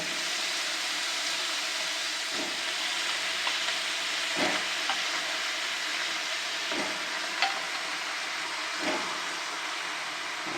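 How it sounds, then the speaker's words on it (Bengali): Eggplant pieces fry in hot oil in a pan with a tomato, giving a steady, close sizzle with a few soft stirring knocks spaced through it; no one speaks. "বেগুনগুলো ভাজা হতে থাক"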